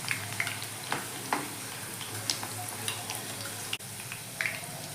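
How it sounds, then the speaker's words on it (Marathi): Banana chips fry in hot oil with a continuous, dense crackle, broken by scattered ticks and small pops, and one abrupt dip in the sizzle partway through. "अजून थोडी तळली ना मग पाण्याचा शिंपडा द्यायचा याच्यावर"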